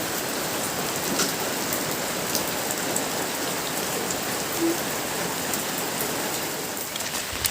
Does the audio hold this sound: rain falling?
yes